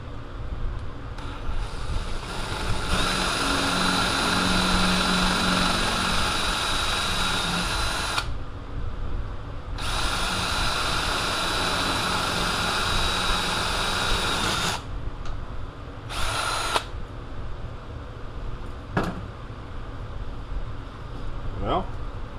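A power drill bores holes through a bucket control panel, running in long loud bursts of steady whirring with short pauses between them, close by.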